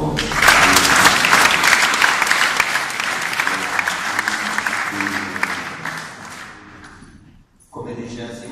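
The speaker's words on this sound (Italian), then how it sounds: "Quindi un altro applauso." An audience at a gym studio presentation claps in a loud, dense burst that slowly fades over about seven seconds and then stops. A voice talks over the applause near the end.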